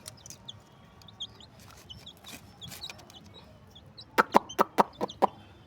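A quick run of about six sharp, loud clucks near the end, with faint bird chirps and quiet rustling before them.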